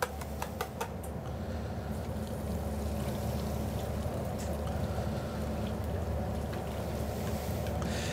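Crème caramel custard mixture poured steadily through a small fine conical sieve, a continuous soft liquid trickle with faint clinks near the start, close and alone.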